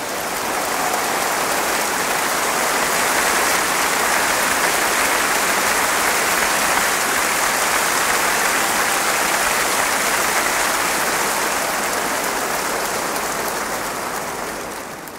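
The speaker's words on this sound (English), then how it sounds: "give her an enormous applause" Applause from a large concert audience in Sydney greets an operatic singer, a dense, loud, continuous roar of clapping lasting the whole stretch before fading slightly at the end.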